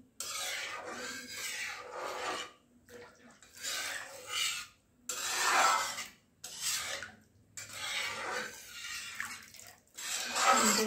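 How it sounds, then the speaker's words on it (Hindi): Water is poured in bursts into egg curry cooking in a pan, giving rushing, splashing sounds several times in a row with brief quiet gaps between, close and moderately loud. "आप पानी इसमें हिसाब से डालिए, जैसा गाढ़ा चाहते हैं वैसा बनाइए"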